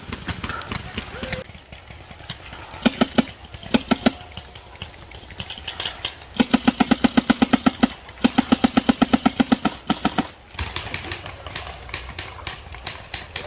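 Paintball guns fire during a D-Day invasion of Normandy skirmish game, rapid bursts of sharp popping shots in rattling strings, close and loud, with voices under and between the volleys.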